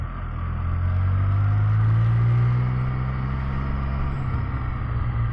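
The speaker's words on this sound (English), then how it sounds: "Let's see if we can get a quick acceleration and braking test in right here." A 2022 Can-Am Spider F3-T three-wheel motorcycle's engine drones steadily, rising to a louder, higher pitch around mid-clip during acceleration before easing off as it slows to a stop, heard from the rider's position with no speech.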